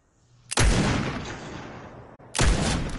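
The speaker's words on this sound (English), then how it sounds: "I'll snipe him with my scoped revolver." Two loud, sharp scoped revolver shots from Fortnite, each with a long booming tail, spaced about two seconds apart.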